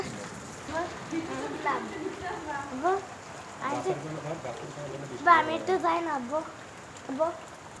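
Heavy rain falls steadily in Tangail after a spell of intense heat, a constant wash of drops beneath a voice talking throughout.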